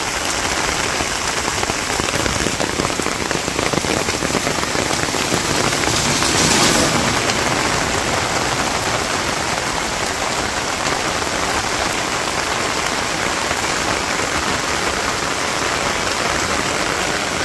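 Heavy rain pours steadily in a Bangladeshi village, a loud, unbroken roar of drops hammering surfaces that stays constant and close throughout, with no voices.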